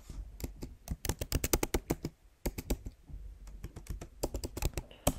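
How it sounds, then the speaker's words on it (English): Username and password typed on a computer keyboard, a close, rapid clatter of keystrokes in two bursts with a short pause between them and no speech. "I want to enter my username. So I enter that, then I enter my password."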